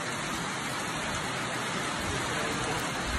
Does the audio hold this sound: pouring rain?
yes